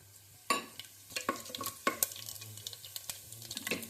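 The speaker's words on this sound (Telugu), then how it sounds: "ఇప్పుడు పోపు దినుసులు వేసుకోవాలి." Tempering spices dropped into heated oil crackle and sizzle close up, with sharp spitting bursts and stirring scrapes over a low continuous fry.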